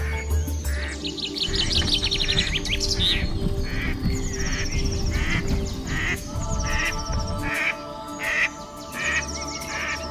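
A duck calls amid a busy chorus of chirping birds, with repeated quacking notes and twittering layered together at close range and steady loudness, no voices present.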